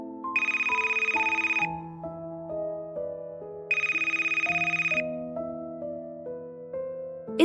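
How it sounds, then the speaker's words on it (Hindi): A phone ringing in an animated Hindi horror story: two bursts of a shrill electronic trill set over a soft, slow melodic ringtone tune, clear and close with no voices. "कुछ देर बाद उसके फोन की घंटी बजी।"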